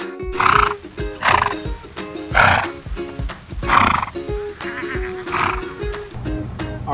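A brown horse gives repeated loud, close neighs and whinnies in rhythmic bursts over about seven seconds, with no talk.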